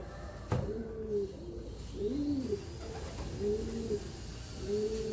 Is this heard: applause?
no